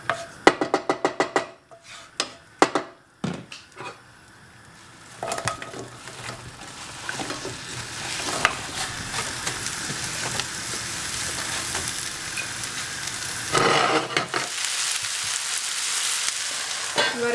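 Margarine with a little olive oil sizzles in a pan, starting with sharp intermittent crackles and pops, then settling into a loud, continuous frying hiss, with no talking.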